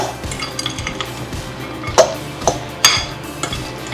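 Rice salad with mint being stirred in a bowl, a spoon clinking and scraping against the dish in a steady close run of clatters with a few sharper knocks.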